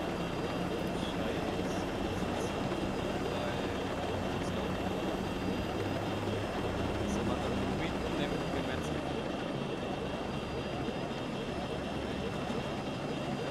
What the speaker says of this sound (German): hat der Hubschrauber so ein Alarmsignal die ganze Zeit?